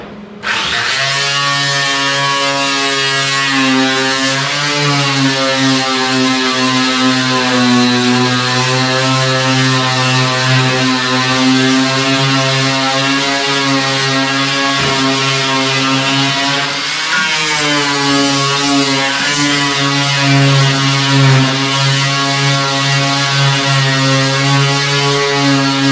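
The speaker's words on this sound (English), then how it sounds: "it looks like I need to grind back a little bit farther" A metal grinder works on a roof, cutting back steel near a 1/4-inch plate; a loud, steady, humming whine holds for the whole stretch, with only slight shifts in pitch as the load changes.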